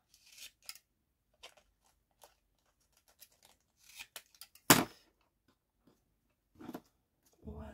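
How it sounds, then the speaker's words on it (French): Scissors snip through mirror paper in a few short crisp cuts, with one louder crunching cut near the middle, while a box-book craft is made; quiet gaps separate the cuts and there is no talk. "je vais le couper droit"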